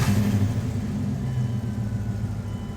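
A Dodge Durango engine idling and revving with a newly fitted exhaust system during a leak check, a steady loud low rumble that holds throughout, close up and without speech.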